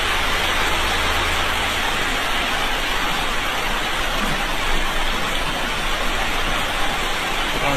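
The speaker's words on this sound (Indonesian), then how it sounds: "Nah, hujan bro." Heavy rain pours down outdoors near a chicken coop, a dense unbroken hiss of water falling steadily and loudly throughout, with no speech over it.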